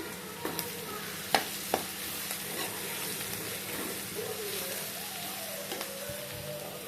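Onions frying in a pan with chili powder give a steady crackling sizzle, broken by a few sharp clicks of a spoon against the pan, close and continuous with no talking.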